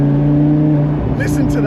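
A supercar engine, either an Audi R8 or a McLaren 650S, drones steadily and loudly close by, then its pitch shifts as it accelerates toward the end, with a voice speaking over the engine.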